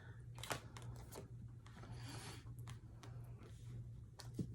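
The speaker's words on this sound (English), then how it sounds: "One more shuffle." Tarot cards are shuffled close and quietly, giving a run of soft papery riffles, rubs and flicks in irregular bursts over a low steady hum.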